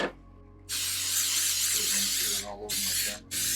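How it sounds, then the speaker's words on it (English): A can of cooking spray hisses in a long steady burst close by as baking pans are coated, followed by two shorter sprays. "I'm gonna spray these down really well."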